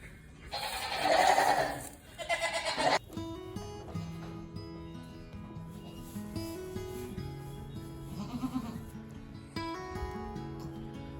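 Dairy goat bleating twice in quick succession, loud and close, followed by quieter snuffling and low murmurs, with faint voices in the background of a barn birthing scene.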